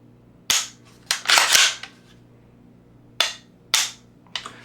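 Crisp trigger clicks and bolt snaps from a PSA JAKL rifle, several sharp metallic cracks spaced irregularly with a brief flurry of clatter, close and loud in a quiet room.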